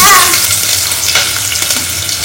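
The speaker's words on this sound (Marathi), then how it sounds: "तोपर्यंत आता कांदा फ्राय होतोय" Loud, close sizzle of two sliced onions frying in hot oil, a dense hiss that carries on without break and fades slightly after a sharp start.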